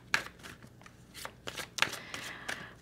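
Tarot cards being handled and drawn from a deck, a series of quick papery flicks and slides, close and fairly soft, with no voices.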